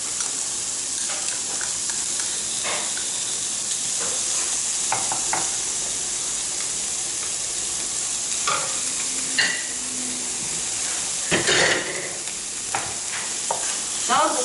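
Squid stir-frying in a hot pan with gochujang seasoning, a continuous loud sizzle broken by repeated scraping stirs of the spatula, all close up and free of talk.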